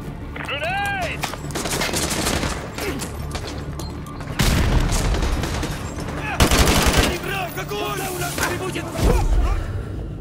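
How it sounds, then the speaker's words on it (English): Grenade blast and bursts of rapid gunfire in the Call of Duty Modern Warfare 2 campaign, with heavy booms and crackling automatic fire through the battle, while soldiers shout over it. "Grenade!"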